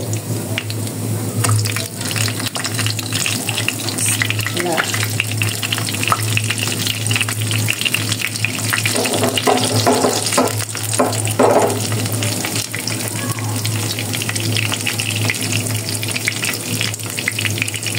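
Chocolate donuts fry in hot oil in a large frying pan, giving a steady, loud sizzle throughout with a few clinks and stirring movements partway through.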